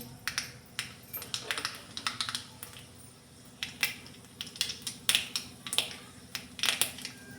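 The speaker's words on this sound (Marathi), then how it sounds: "तेल चांगलं तापलं की त्यामध्ये मोहरी घालायची" Mustard seeds splutter in hot oil in a pan, making quiet, irregular sharp pops and crackles in quick clusters over a low background hum.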